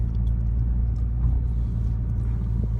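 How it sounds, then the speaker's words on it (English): Nissan GT-R NISMO N-Attack (2016) on the move with its differentials grinding, heard as a steady loud low rumble and drone of the drivetrain and engine, close and continuous with no talk. "Crazy grinding diffs already"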